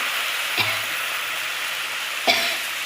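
Water poured into a pan of frying mung dal and ridge gourd, two short bursts of sizzling hiss over a steady background frying crackle, fairly close.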